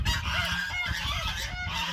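Several geese honk repeatedly nearby, a series of nasal calls overlapping in an uneven rhythm.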